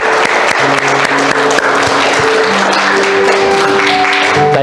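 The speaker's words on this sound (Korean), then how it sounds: "사랑하시고 우리와 함께 하시는 하나님께 영광의 박수를 돌려드리기 원합니다." A church congregation at a Baptist church in Atlanta claps together in a dense, sustained round of applause, loud and close throughout, with a few voices mixed in.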